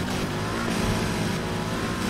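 Dense, steady engine roar from a rally car flat out on sand in Need for Speed Heat, loud and continuous with a wide gritty spread and no gaps, no talk over it.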